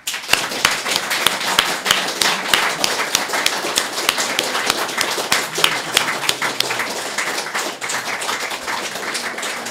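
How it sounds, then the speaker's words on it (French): An audience claps after a lecture, with distinct, fairly rhythmic individual claps that stand out over a steady background of applause. "Donc, je vous demande de l'applaudir."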